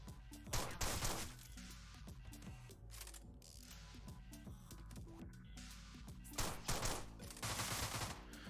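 Gunfire in the video game Deadbolt, a few sharp shots amid a busy, dense layer of mechanical clicking and game sound, moderately loud throughout with bursts near the start and end.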